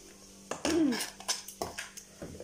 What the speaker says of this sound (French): je vais prendre une casserole et je vais mettre de la crème fraîche dedans